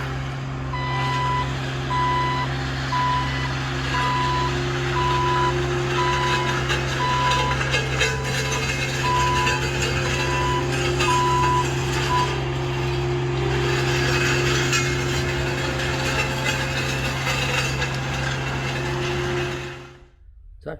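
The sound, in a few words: roller rolling a farm driveway, with reversing beeps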